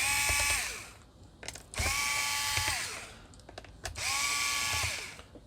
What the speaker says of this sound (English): First we need to unscrew these screws around